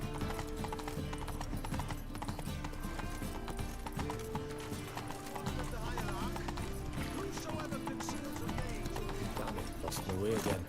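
A horse's hooves gallop in a rapid, steady clip-clop through a video game, mixed with game music and an occasional whinny, while a player talks over the action.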